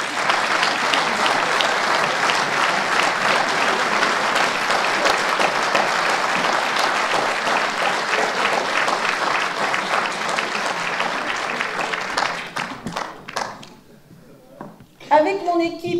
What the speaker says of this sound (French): je voudrais bien que vous les applaudissiez bien fort